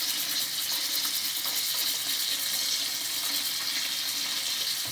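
Steady, continuous hiss of tap water pouring into a sink while items are rinsed under the stream, close and unbroken for several seconds with no voices.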